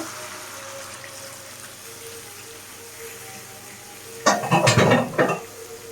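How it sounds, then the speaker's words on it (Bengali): Water is poured into a pan of chili and other sauces for a chicken bao filling, landing as a short burst of splashing and sizzling bubbles after a quiet low background. "পানি দিয়ে দিব"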